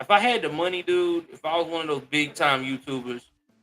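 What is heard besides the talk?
No everyday noises stand out.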